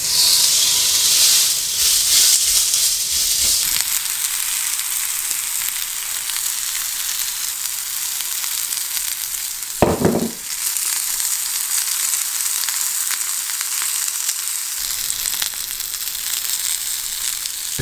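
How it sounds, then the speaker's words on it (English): A burger fries in olive oil in a grill pan with a loud, continuous close sizzle and hiss. A short thump interrupts it partway through, and then the frying carries on steadily. "Then my burger goes into the grill pan."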